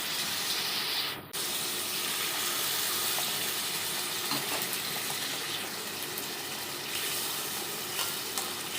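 Spice paste of chilli, cumin and coriander powders poured into hot oil: a loud, dense, steady sizzle close to the microphone, with one sharp break early on and faint clinks, no speech.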